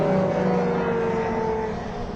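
Race cars at Thruxton circuit roar past heading into Church Corner, one loud, close engine note holding high and then slowly easing off as it pulls away.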